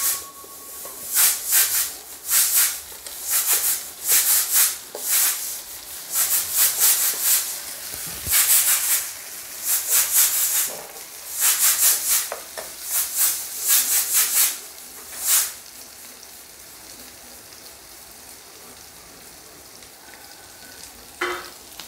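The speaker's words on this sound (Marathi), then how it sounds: "आता याला पण छानपैकी परतून घ्यायचं आहे." Tomatoes for pav bhaji are sautéed in a pan, repeated bursts of scraping and sizzling as a spatula works them, roughly a dozen rhythmic strokes that fade to quieter hiss in the last few seconds.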